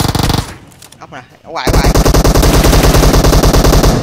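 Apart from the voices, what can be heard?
gunfire in the video game PUBG Mobile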